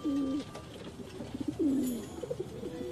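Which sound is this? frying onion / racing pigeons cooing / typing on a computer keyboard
racing pigeons cooing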